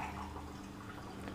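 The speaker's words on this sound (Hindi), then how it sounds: "तो उसमें मैं 5 गिलास पानी डाल रही हूँ" Water poured from a glass into a pot of raw basmati rice that has soaked for about half an hour, a steady close liquid rush and trickle throughout, with no talk.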